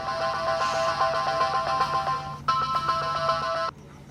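A phone ringtone plays a repeating electronic melody, pausing briefly before starting again, then cutting off abruptly.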